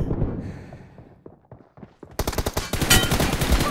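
Automatic gunfire in PUBG Mobile played on an iPhone, a dense rapid burst of loud shots starting abruptly after a quieter stretch of scattered thuds and footstep-like taps.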